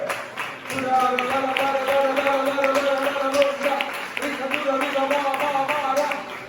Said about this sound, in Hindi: आइए ताली बजाकर यीशु का धन्यवाद करें